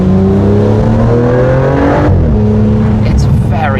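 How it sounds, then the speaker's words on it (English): Aston Martin Vanquish twin-turbo V12 with the roof down, a loud, close, deep engine drone that shifts pitch partway through as the revs change, with a brief voice near the end. "that V12 rumble"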